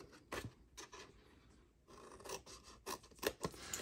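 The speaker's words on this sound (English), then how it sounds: "So grab your scissors. And here on this long side with the long skinny tab, you want to cut off the squares or the rectangles in the corner." Scissors snip through a paper treat box template, trimming corners off a long tab, with close rasping cuts in short uneven bursts and pauses, alone without talking.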